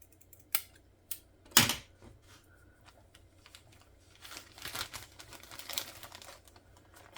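Scissors cut through fabric for a garden collage in a few sharp snips early on, followed by a run of softer, crinkly cutting and rustling close by.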